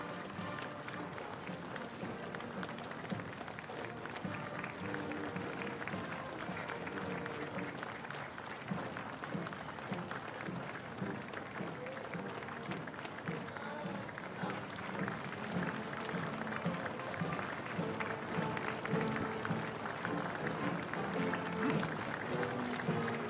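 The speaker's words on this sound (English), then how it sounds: "You might be able to hear the applause" Crowds lining the streets of Brisbane clap steadily for the Anzac Day march, a continuous, moderately distant patter of applause that keeps going throughout.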